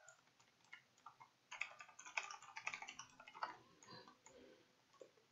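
Quiet, close keystrokes tap on a computer keyboard in irregular bursts, clustering into quick runs around the middle before trailing off into a few isolated clicks.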